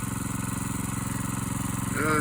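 An engine idling steadily while warming up ahead of snow, a close, even, rumbling idle with a brief rise near the end.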